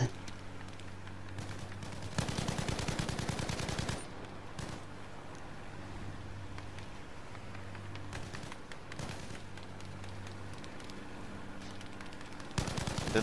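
Bursts of gunfire in Battlefield V, loud rattling volleys near the start and end with steadier shooting in between, under occasional voices.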